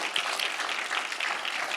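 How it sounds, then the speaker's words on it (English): A round of applause from a small workshop audience, some of them joining remotely, soft even clapping that fills the short moment without a voice over it. "Folks, could we give Aman and Gabby a round of applause?"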